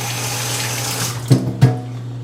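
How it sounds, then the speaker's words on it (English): Running tap water splashes steadily as a pair of hands is rinsed under it. Two brief, louder splashes land near the end, close up and with no speech over it. "let me just rinse my hand"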